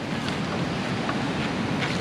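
Sea waves at the shore make a steady, breezy wash mixed with wind noise on the microphone, a constant mid-level roar with no voices.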